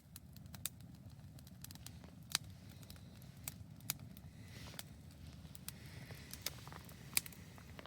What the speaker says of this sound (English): It is raining just a little bit.